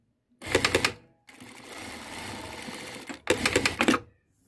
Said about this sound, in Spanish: Vamos a hacer la costura.